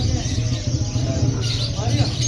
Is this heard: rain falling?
no